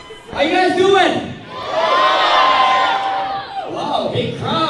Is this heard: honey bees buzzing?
no